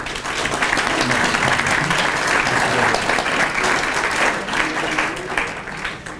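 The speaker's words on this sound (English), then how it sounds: "Give yourselves a round of applause." Audience at a conference afternoon panel discussion applauding: dense, sustained clapping from a crowd, loud and steady for about six seconds before tapering slightly at the end.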